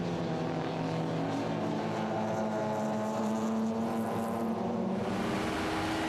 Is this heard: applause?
no